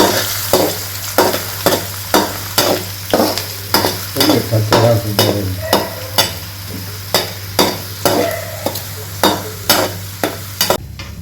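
Chopped onions sizzle steadily in a hot pan while a utensil scrapes and stirs in a regular rhythm, close and continuous under a low hum.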